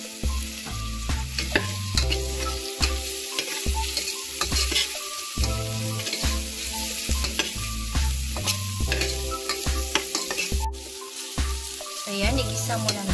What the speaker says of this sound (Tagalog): Ayan, igisa muna natin.